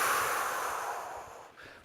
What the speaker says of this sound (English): Breathing now, letting go.